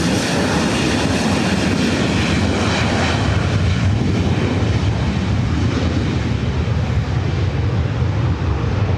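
A SkyWest airliner takes off from runway 24 right at LAX. Its jet engines make a loud, continuous roar that fills the whole stretch, with no voices.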